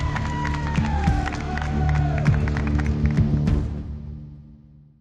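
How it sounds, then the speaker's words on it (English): Crowds cheer and applaud over a low, sustained musical drone, a loud surge of cheering and clapping that swells and then fades away toward the end. "greeted by cheering crowds"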